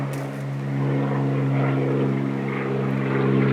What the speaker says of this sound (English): There'll be an aeroplane going over.